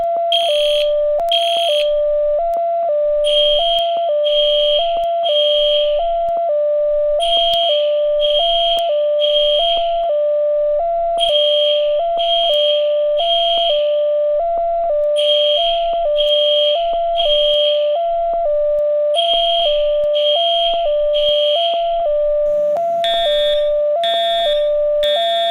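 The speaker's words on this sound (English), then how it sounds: "why is the fire alarm going off?" A school building fire alarm sounds loud and close, with a repeating electronic tone and regular horn pulses cycling steadily throughout, and a brief different beeping near the end.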